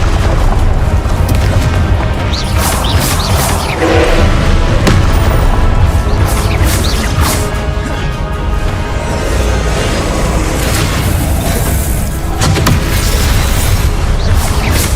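Repeated Confringo blasting spell explosions in the Hogwarts Legacy video game, loud booming impacts and crashes layered over a continuous dense rumble of combat noise throughout.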